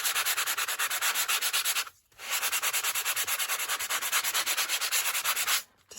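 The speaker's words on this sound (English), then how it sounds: "I took my sanding block and I just did a little bit of sanding." Steady back-and-forth rasping of a sanding block on a playing card, loud and close, in quick rhythmic strokes with two brief pauses.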